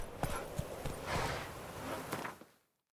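Roach, the horse in the video game The Witcher 3, gallops with quick hoof clip-clops and whooshing movement, fairly close and steady before fading out near the end.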